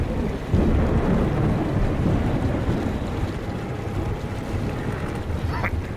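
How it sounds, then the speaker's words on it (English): Metro Exodus storm noise with waves and rumbling thunder makes a loud, dense roar that swells early and holds steady for several seconds. "That storm's really ramping up though"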